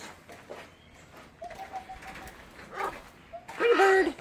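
A bird calls with cooing and throaty notes, some phrases soft and one loud close burst near the end, with faint background noise.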